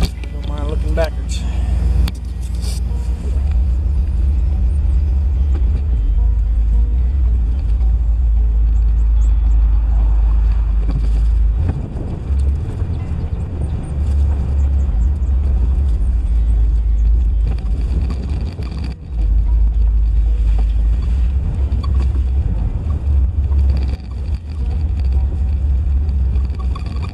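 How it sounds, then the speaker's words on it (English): A Jeep engine rumbles steadily and close up as it is driven around a corner to its designated parking spot, a low continuous drone that runs almost unbroken for the whole stretch. "I guess I could go ahead and stick the Jeep back in around the corner on it in its little designated parking spot too."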